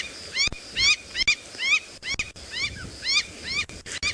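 Tiny lion cubs of the Nkuhuma pride give high, thin squeaks and mewing yips during a sunset safari drive. The calls are close and repeated in short bursts, with soft rustling between them.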